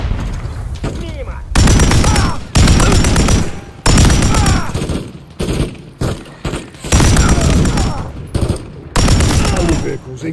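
Heavy gunfire in a Call of Duty: Modern Warfare 3 campaign firefight at night in Verdansk, loud repeated bursts of automatic fire and booms in long volleys with short pauses, voices shouting in between.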